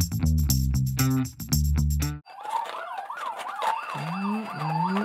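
An emergency siren wails in a quick rising-and-falling pattern, loud and close, after a burst of rhythmic music that cuts off abruptly.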